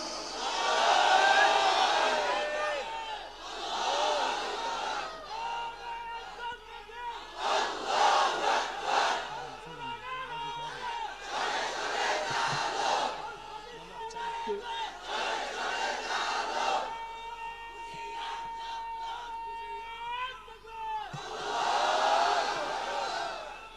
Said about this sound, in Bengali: একবার তাকবীর দাও, আল্লাহ শুনুক।